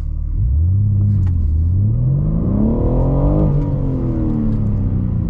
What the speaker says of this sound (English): let's do a launch without launch control normally